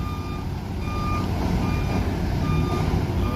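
A forklift at Cagayan port sounds repeated steady reversing beeps, close and clear, over a constant rumble of trucks and engines with no talk.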